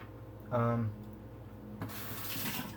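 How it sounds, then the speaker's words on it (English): Fruit such as peaches is rinsed under a running kitchen tap. Water splashes steadily and close, with a brief voice speaking over the start. "We're going to rinse off some other stuff here."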